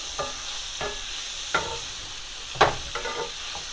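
Shrimp cooking in hot fat in a pan, a quiet sizzle with a few distinct stirring scrapes and taps spaced irregularly, no voices.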